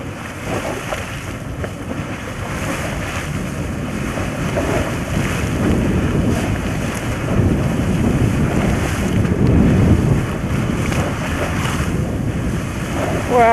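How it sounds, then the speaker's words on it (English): A geyser in Yellowstone erupts and blows hot water and steam in a continuous loud rushing roar that swells slightly, with wind buffeting the microphone throughout and no voices. "It's blowing a lot of hot water and steam out of it."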